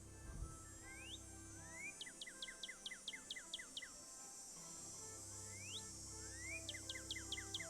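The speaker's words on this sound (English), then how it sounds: "Northern cardinal." Northern cardinal song from a recording: upward-sweeping whistles followed by quick runs of repeated chip notes, a phrase given twice, clear above a steady background hiss.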